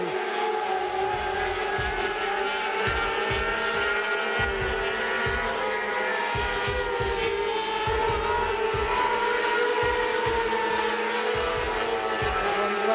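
Formula 500 race cars lapping Rockhampton Speedway during a Rocky Resort Series race, engines roaring continuously at high revs with repeated surges as cars pass, loud and steady throughout.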